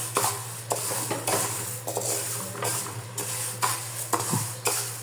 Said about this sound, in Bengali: এই যে ডাউলটাকে এমনি নেড়ে আস্তে আস্তে ভেজে নিতে হবে।